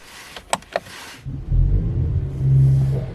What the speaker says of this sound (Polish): Czas odpalić silnik.